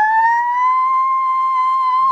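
A voice imitates a ghostly wail with a long, sustained high-pitched shriek held steady and loud for about two seconds, ending abruptly.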